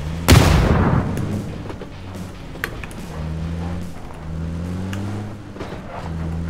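A video game grenade goes off with a loud, sudden boom right at the start, then fades into a low, steady engine hum and game background sounds.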